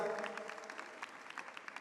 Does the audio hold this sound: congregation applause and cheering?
yes